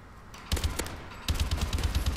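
Video game gun fire starts after a quiet lead-in as a quick run of sharp, close shots, pauses briefly, then resumes as a steady rapid rhythm of loud repeated bursts.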